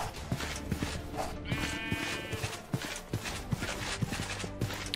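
Sheep bleat in the Minecraft-based RLCraft survival game, a soft wavering bleat standing out briefly amid a steady run of light, rhythmic hoof-like clopping, fairly quiet throughout.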